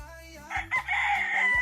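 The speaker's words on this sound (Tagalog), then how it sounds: "ang ingay ng mga manok" A rooster crows loudly and close by on a farm where chickens are being fed, giving one drawn-out, strained call with brief breaks.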